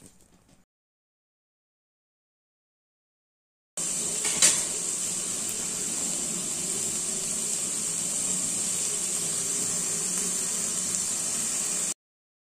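Vegetables for rava kichadi sauté in hot oil in a pan, giving a steady, fairly loud sizzling hiss that starts after a few seconds of silence and continues unbroken, with a brief clatter near its start.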